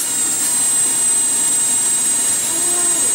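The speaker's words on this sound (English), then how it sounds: "Engine's about to start." A test drone's engine runs with a loud, steady, jet-like roar and high whine that holds constant throughout, close by, with no talking.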